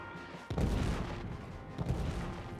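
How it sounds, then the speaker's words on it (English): Heavy artillery shelling in the trench-warfare game All Quiet in the Trenches: a deep boom lands after a brief quiet, followed by a rumbling, sustained bombardment with a second, softer thud near the end. "Still is heavy shelling."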